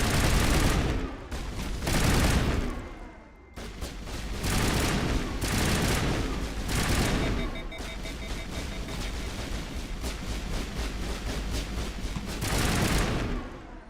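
Sustained gunfire on Feros in Mass Effect Legendary. Loud, dense bursts of shots roll on for long stretches, broken by brief gaps, with no voices over them.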